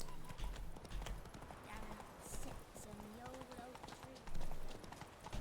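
Roach, the horse in The Witcher 3 video game, trots with clip-clop hoofbeats at moderate volume, mixed with game audio and a voice talking over it.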